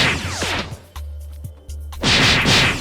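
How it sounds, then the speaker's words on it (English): Cannon fruit attacks firing in Roblox Blox Fruits, heard as a run of loud booming blasts and impacts, a brief quieter gap, then another heavy burst of crashing explosions near the end. "Cannon has good range and damage."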